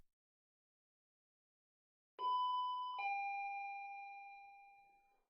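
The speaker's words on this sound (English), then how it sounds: "I wake up to the sound of the doorbell." A two-tone ding-dong doorbell chime in a late-night horror visual novel game, sounding once after silence, clear and electronic with a long ringing decay.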